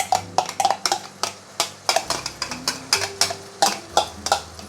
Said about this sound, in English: Then we are going to start with sauteing the chili paste.